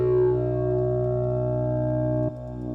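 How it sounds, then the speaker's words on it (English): A deep, droning synthesized tone with rich sustained harmonics, didgeridoo-like, holding steady before a brief shift near the end. "more traditional sort of sort of didgeridoo sounds"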